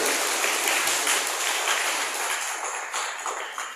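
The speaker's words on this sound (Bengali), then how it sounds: "সেই জন্য আনন্দিত হয়ে জোরদার হাততালি দিই।" Audience at an organic farming achievers' meeting in Khayerpur, Tripura clapping loudly, a dense burst of applause that thins and softens toward the end.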